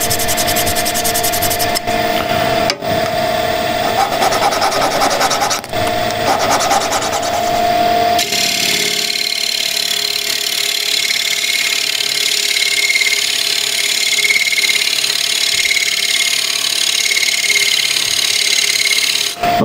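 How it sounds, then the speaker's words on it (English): A dull woodworking scraper edge is honed during a walnut project, giving steady close rubbing and rasping strokes that run without a break and turn into a smoother, continuous scraping hiss in the later half. "this edge with a scraper, which is dull, so hone it"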